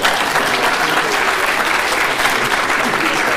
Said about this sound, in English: So a round of applause for Glenn.